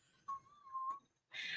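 A computer emitting a steady, thin whistling tone that holds for most of a second, followed after a short gap by a louder burst of higher-pitched hiss or whine, with no talking.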